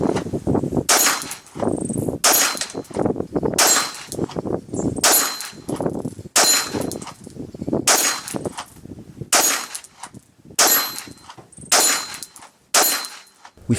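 Gunshots from a pistol firing temperature-abused Fiocchi 124-grain ammunition, about eleven loud, sharp reports spaced roughly a second apart, each with a ringing metallic tail.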